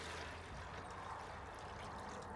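Water poured into a bucket makes a steady, broad splashing rush, continuous and fairly close for a couple of seconds with no voices.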